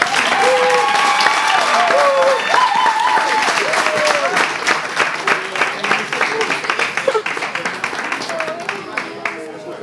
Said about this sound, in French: On peut l'applaudir, hein?